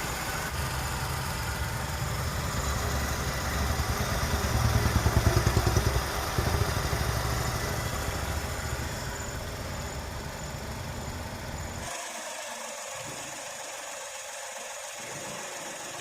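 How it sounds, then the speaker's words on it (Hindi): A Tata Tiago 2023 with a 1.2-litre three-cylinder Revotron petrol engine idles with a steady, slightly clattery hum close by. The level holds even throughout, then a faint click comes near the end. "अब नए इंजन का जो साउंड है वो सुन लेते हैं"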